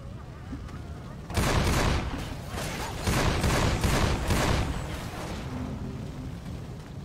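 Gunfire in the zombie shooter Left 4 Dead, a loud burst of rapid repeated shots that starts suddenly and keeps up for several seconds before it fades into lower game noise.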